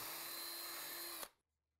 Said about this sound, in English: Then drill pilot holes at each mark.